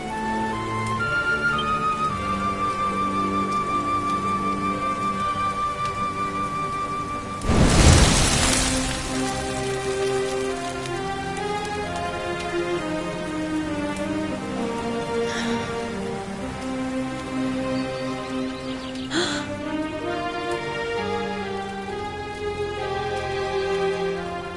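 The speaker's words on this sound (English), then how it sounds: "Looks like the rain's dying down." Rain falls steadily in the Dragon Quest XI video game beneath layered in-game music, with one short burst of thunder rumbling partway through; no voices are heard.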